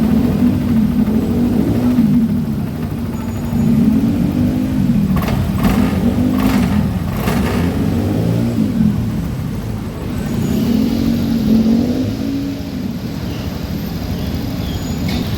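A Honda Beat Deluxe scooter engine idles at high rpm with a fault at the throttle body, a loud, close, steady drone that swells and dips slightly in slow cycles.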